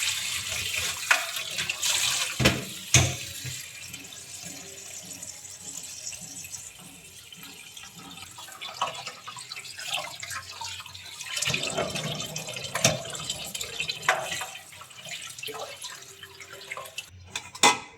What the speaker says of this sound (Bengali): ঠান্ডা জল দিয়ে ভালোভাবে ধুয়ে নেব